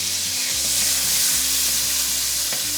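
Capers, olives and sun-dried tomatoes sizzle in a pan with a steady, loud hiss of frying oil, close by and uninterrupted, with a low hum underneath and no talking.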